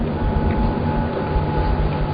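Train sequence from the Ghost Rider video game: a steady, loud rumbling roll of rail cars with constant low drone, no voices.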